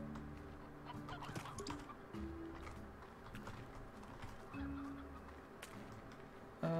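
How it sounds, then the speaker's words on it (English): Chickens in the Slime Rancher video game cluck in short, repeated calls at moderate volume over a faint, steady game background, with no talking. "If I find chickens, I'll take them."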